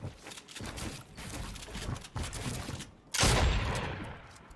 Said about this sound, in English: I'm just gonna shoot down. I'm gonna shoot my way out.